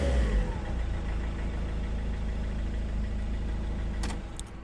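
A 2010 Ford Galaxy 2.0 TDCi diesel engine, which has a cutting-out fault, idles steadily up close with a low rumbling drone. Clicks are heard near the end as it keeps running, with no talking.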